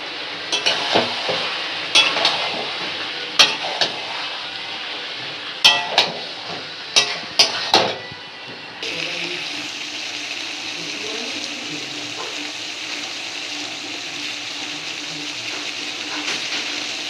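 Mutton curry pieces being stir-fried in a hot pan, a steady sizzle with repeated scraping and clanking of a spatula against the pan in short bursts, then a louder continuous sizzle as more ingredients go in.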